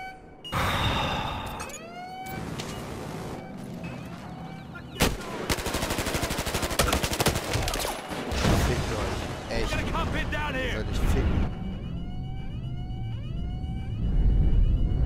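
Rapid automatic rifle fire in the video game Battlefield Hardline, loud bursts and long strings of shots stacked with explosions and siren wails, a voice talking over parts of it.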